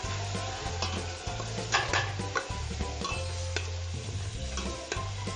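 Chili peppers sautéing in a pan for ginataang gabi, a Filipino taro dish, with steady sizzling and a spoon repeatedly scraping and stirring against the pan, close up with no talk.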